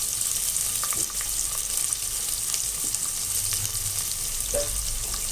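Chopped onions and garlic fry in hot oil in a pan, giving a loud, continuous close sizzle with occasional faint stirring scrapes.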